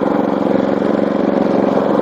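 Walk-behind tractor fitted with an AK-1 rear hitch, its small engine running steadily and loud at close range with an even mid-pitched drone and no talk over it.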